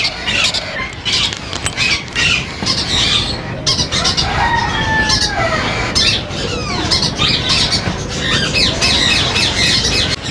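Green ringneck parakeet chicks squawk harshly and repeatedly at a busy Sunday bird market in Bahawalpur, their shrill calls overlapping in a dense chorus over faint background chatter.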